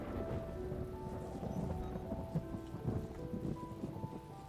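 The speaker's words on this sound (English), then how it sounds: "Apparently we're just in the rainy section of things now." Steady rain falls in The Talos Principle, with soft rumbles of thunder woven through the continuous wash of drops. No one speaks.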